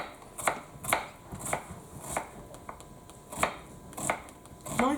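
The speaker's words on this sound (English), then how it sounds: "I'm going to take my my white onion now, cut it in half." Knife chopping a white onion on a cutting board, about nine crisp evenly spaced cuts in a steady rhythm, close and clear with no talking.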